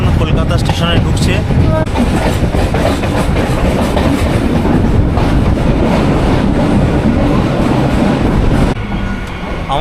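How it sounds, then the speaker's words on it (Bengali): A suburban train enters Kolkata station with a continuous loud rumble and clickety-clack of wheels on track. The noise eases slightly near the end as it slows. "আমাদের ট্রেন এখন কলকাতা স্টেশনে ঢুকছে"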